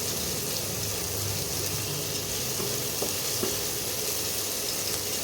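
Chopped onions sizzle steadily in a pan for an egg and cauliflower curry, a continuous close frying hiss with faint stirring clicks near the middle.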